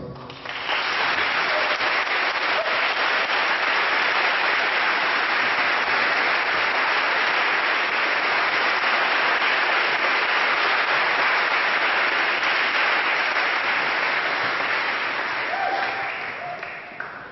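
A London lecture audience gives a long, warm round of applause welcoming speaker Charles Eisenstein, steady and full for about fifteen seconds before tapering off at the end.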